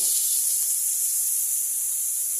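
Sliced ginger and onion sizzle in hot oil with garlic while being stir-fried in a wok, a loud, steady, bright hiss that continues without a break.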